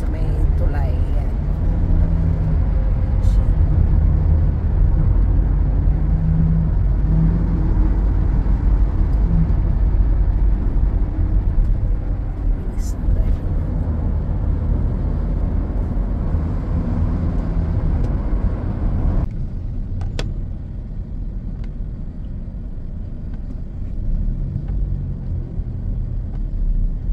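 A vehicle drives along a highway near Bangkok, giving a steady, loud low rumble of engine and road noise that drops slightly near the end, with someone talking over it.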